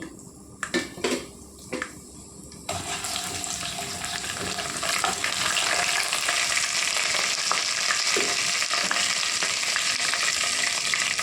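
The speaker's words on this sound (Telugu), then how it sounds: "ముందు ఆయిల్ పెట్టుకున్నానండి. తాలింపు వేసుకుంటున్నానండి." A few metal clinks and taps, then hot oil erupts into a loud, steady crackling sizzle as cumin, mustard seeds and urad dal temper, continuing strongly to the end.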